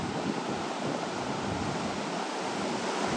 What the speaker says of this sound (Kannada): ಯಾಕೆಂದ್ರೆ ಆ ರೇಂಜಿಗೆ ಬರ್ತಾ ಇದೆ ಅಲೆಗಳು.